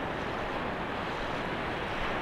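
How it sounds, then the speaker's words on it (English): Ocean surf breaks at Muriwai beach, heard as a steady, dense roar of washing water and wind with no clear individual wave crashes and no talking. "And then the little bank where the waves are going to break there."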